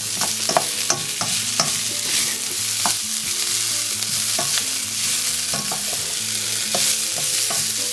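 Vegetables for a homemade pizza topping sizzle steadily in a hot pan as they release their liquids, a close, constant frying hiss broken by scraping stir clicks, with faint music underneath.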